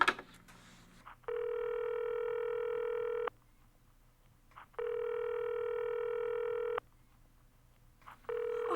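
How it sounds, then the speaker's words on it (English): A telephone line during the dialing of a Murray Hill number gives three long, steady electronic tones, each about two seconds, separated by short silent gaps, close and clear with no voices. "Dialing Murray Hill 40098."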